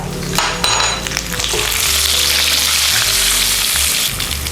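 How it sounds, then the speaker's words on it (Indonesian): Kaffir lime leaves and galangal fry with salt in a hot wok, giving a loud, steady, close-up sizzle and crackle that runs throughout, with no talking. "Kita mau goreng daun jeruk dan lengkuas."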